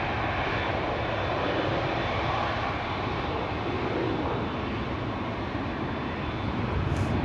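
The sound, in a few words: jet airliner taking off at Amsterdam Schiphol Airport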